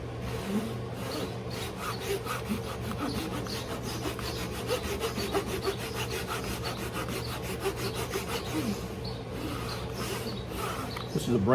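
A brand new hand saw cuts through a curly maple wedge held in clamps, giving a steady rhythmic rasp of back-and-forth strokes close by, with a little background noise and no talk.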